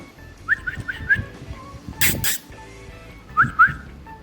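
A person whistles short rising notes, a quick run of three, then a pause and two more, with a brief burst of noise in between; fairly close.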